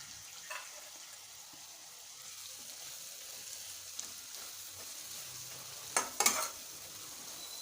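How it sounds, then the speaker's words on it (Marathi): Fried Bombay duck fish sizzles softly in masala in a pan, a faint steady hiss broken by a few sharp scraping stirs near the end, with no talking. "यानंतर आता यात आपण फ्राय केले होते ते बोंबील घालायचे"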